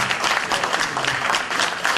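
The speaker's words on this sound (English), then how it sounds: "Extra special applause for the governor, His Excellency" Applause at a reception for the governor in Houston, a crowd clapping densely and continuously, loud and close throughout.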